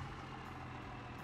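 A 2020 Chevy Duramax truck engine in BeamNG Drive turns over into a steady, loud diesel rumble that runs continuously without pause.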